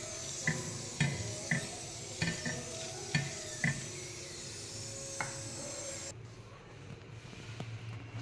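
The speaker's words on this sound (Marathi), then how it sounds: "आता ही बाजू पलटी करायची आणि मस्त सगळ्या बाजूने व्यवस्थित दाबत दाबत दाबत शेकून घ्यायचं" A papad roasting in oil on a pan while being pressed down, soft close sizzling broken by a regular series of light scraping taps, then calmer frying at the end.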